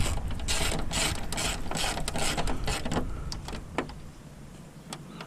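A ratchet clicks rapidly in several bursts while fasteners are tightened on a BMW K1200R Sport motorcycle, close and fairly loud, then gives way to a few isolated clicks and quieter handling noise, with no talking.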